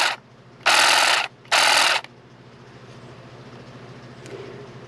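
A Saker cordless hedge and grass trimmer whirs in three short, loud bursts of high buzzing, with quiet gaps between them and a low steady hum underneath.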